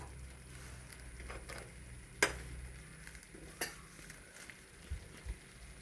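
Prawn biryani masala is stirred with coriander and mint leaves: soft frying sizzle under irregular spoon scrapes and a few sharp clinks against the pot, fairly quiet and without talking.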